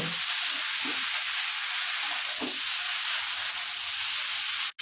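Fried cauliflower and potatoes sizzle steadily in hot oil, a dense, continuous frying hiss broken by a few soft stirring scrapes, with no talking.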